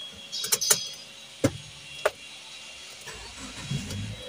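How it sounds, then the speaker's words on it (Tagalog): A Subaru XV engine being started: a few sharp clicks and a brief cranking burst, with the engine catching and settling into a quiet, steady idle, heard close by with a faint background hum. "Start ko muna yung makina."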